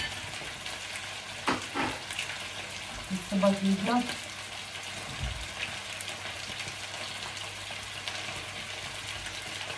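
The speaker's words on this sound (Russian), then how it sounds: "жарим картошку, девочки" Potatoes sizzle and crackle steadily in a hot frying pan throughout, with a brief voice speaking and some scraping and stirring noises partway through.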